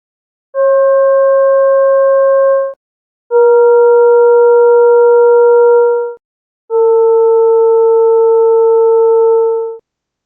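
Sonified ultrasound measurements from freeze-thaw weathering of rock, rendered as three steady sustained tones with clean harmonics, each lasting two to three seconds and separated by short gaps, loud and alone.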